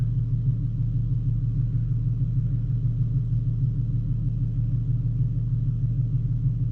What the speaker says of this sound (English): acceleration from 40 to 70 in fourth gear